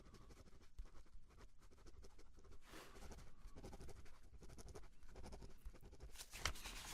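A pen scratches across paper as notes are written, with soft, close, continuous scribbling strokes and small taps, alone and fairly quiet.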